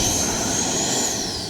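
A Flyfans MiG-25 RC model jet comes in to land, its turbine giving a steady, fairly loud whine with a high thin tone that holds briefly, with no talk.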